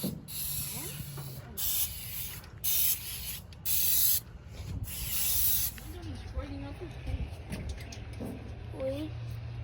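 A spray paint can hisses onto a truck window in several short, sharp bursts and then longer sprays, with children's voices talking around it.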